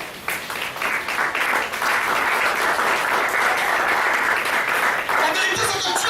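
A church congregation bursts into sustained, dense applause and cheering, loud and close throughout, with a voice speaking over the crowd noise.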